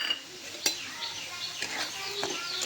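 Semolina being stirred in hot ghee in a pan for suji ka shira, with scraping and clinking of a spoon against the pot and a faint sizzle, a few sharper knocks standing out.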